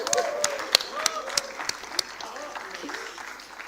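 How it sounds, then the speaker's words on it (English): Audience applause at an NMIMS Mumbai convocation ceremony: scattered sharp claps ring out at irregular intervals, fairly distinct rather than a dense roar, beneath a voice announcing names through the hall's sound system. "joining for a big round of applause"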